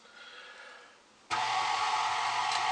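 Cookie dough ingredients being mixed for butter cookies, flour going in: a steady motorized mixer whir, quieter at first, then jumping abruptly louder after about a second and running continuously to the end, with no talking.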